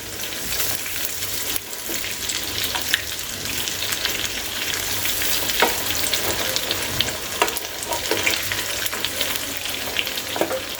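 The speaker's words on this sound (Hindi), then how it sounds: "अब हम पलट लेंगे चिकन के पीसेस को और दूसरे साइड से फ्राई करेंगे" Chicken drumettes frying in hot oil in a pan give a steady close crackling sizzle, with the occasional pop and scrape of the pieces being turned one by one.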